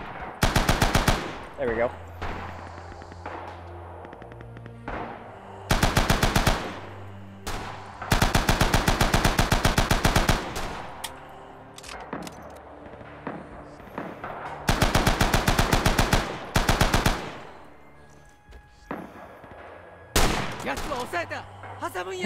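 Type 99 machine gun in Rising Storm firing in loud, rapid, close bursts of a few seconds each, split by pauses filled with quieter battle ambience, with someone talking briefly between bursts.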